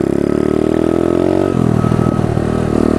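A pit bike engine buzzes loud and close on dirt trails, a steady high-revving drone that shifts pitch midway as the throttle changes, with no talk.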